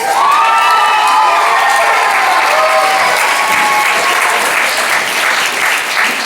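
A large commencement crowd applauds MBA graduates, a dense, steady roar of clapping with some cheering mixed in, loud and sustained throughout.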